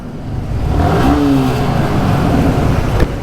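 A scooter engine revs up steadily and loudly, its rising whine swelling and holding near the listener for a few seconds with no talk.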